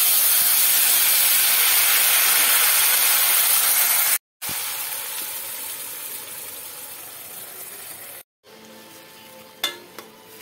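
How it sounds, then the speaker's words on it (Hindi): Steady loud sizzle and hiss of cumin, asafoetida, cream and tomato paste hitting hot oil in a pan for an onion-free, garlic-free potato curry, with a couple of brief cuts and faint stirring clinks near the end. "ऑयल गर्म हो गया तो ऐड करेंगे जीरा, हींग, मलाई और टमाटर का पेस्ट।"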